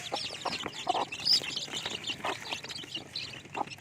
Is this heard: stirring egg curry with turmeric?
no